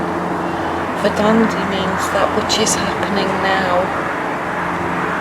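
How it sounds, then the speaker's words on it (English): A broad, steady roar of aircraft engines fills the background throughout while a person talks over it at close range. "Sound like planes, but I can't see them."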